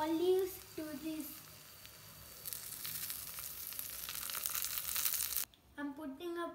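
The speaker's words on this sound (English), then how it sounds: "Fry some palak with butter and oil." Spinach frying in butter and oil in a pan, a steady close sizzle that grows louder and brighter midway, with a voice talking over the start and again briefly at the end.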